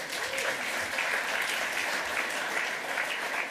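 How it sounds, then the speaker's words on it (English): An audience at a tech conference lightning talk applauds the live translators with steady, fairly loud clapping through the whole stretch, a few voices faintly mixed in. "I think they deserve a round of applause"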